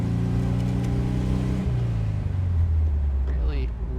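A restored, coach-built 1964 VW Karman Ghia convertible on the road: a close, steady engine drone whose pitch slides lower as it runs, loud and continuous.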